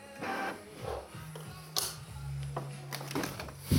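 A household printer switched on and off repeatedly, giving clicks and mechanical whirring with steady hums, while people talk softly nearby.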